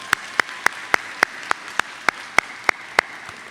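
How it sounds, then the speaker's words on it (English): Audience applause at a Palm Beach Lakes High School graduation ceremony, heard as a string of sharp, evenly spaced claps over a steady wash of crowd clapping, moderately loud and without talk. "Let's give them a big round of applause, everybody."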